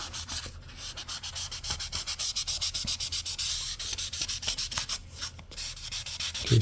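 A 2000 abrasive pad rubs back and forth along the edge of a fretboard on a 7-string bass guitar neck, a rapid, rhythmic scratching of short strokes, close and quiet, with no talk.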